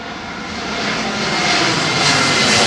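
A jet airliner arrives overhead on approach to runway 27L at London Heathrow, a loud roaring rush of engine noise that swells steadily as it nears, with no talking.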